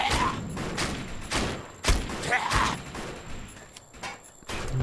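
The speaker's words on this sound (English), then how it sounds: "Let's go ahead and break out our shotgun." Shotgun blasts in the video game Defiance come as several heavy booms spaced irregularly across the span, each with a sharp attack and a rumbling tail, mixed over game effects.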